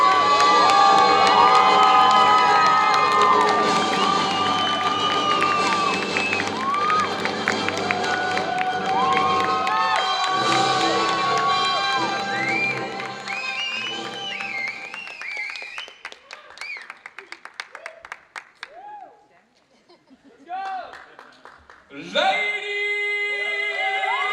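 A large summit crowd cheers, shouts and applauds loudly for a performer introduced onstage as Project Nightfall, the roar gradually thinning into scattered claps and whoops before a short burst rises again at the end.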